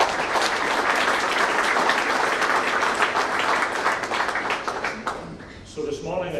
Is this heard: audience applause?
yes